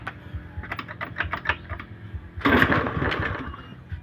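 A motorcycle with a worn fuel pump is kick started, giving a run of quick rhythmic chugging pulses that give way to a louder, rough burst of engine noise, close by with no voices.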